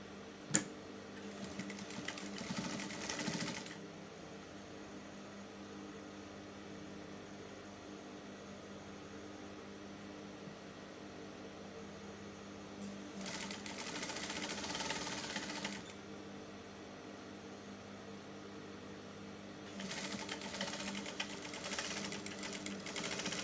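A sewing machine stitches a dress seam with back stitching, running in three bursts of steady whirring separated by long quiet pauses, fairly close and with no talk.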